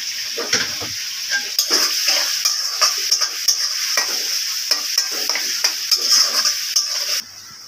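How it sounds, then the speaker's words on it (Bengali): Onions sautéing over low heat in a home kitchen pan, with a soft continuous sizzle and a spatula scraping and stirring in regular strokes, close by, ending abruptly. "হালকা আঁচড়ে পেঁয়াজগুলো এইভাবে কষিয়ে নিব"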